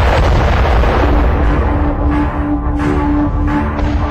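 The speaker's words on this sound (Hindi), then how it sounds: "तोपों और टैंकों के साथ आर्टिलरी और रॉकेट की भी बौछार हो रही है।" Artillery and rocket barrages in a Chinese military exercise with tanks and guns firing at artificial bunkers on a training field, a loud continuous roar of blasts and rumble with no pauses.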